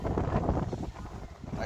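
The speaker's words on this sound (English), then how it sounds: "It's fucking windy and it's cold." Cold, strong wind buffets the microphone outdoors at a protest, a loud, continuous rumbling roar with gusty swells and no voices.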